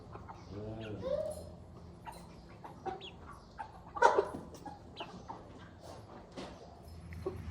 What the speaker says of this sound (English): These are a couple pens of broiler chickens.